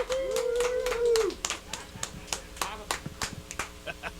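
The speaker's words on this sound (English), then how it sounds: "We all clap for ourselves here on KWJUDAS." A small group clapping for themselves in a studio show, scattered uneven claps following a sung or whooped voice at the start, with voices chattering between the claps.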